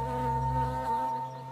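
Honey bees buzz at a hive in a steady, close, droning hum with a strong tonal pitch, continuous throughout with slight swells in loudness.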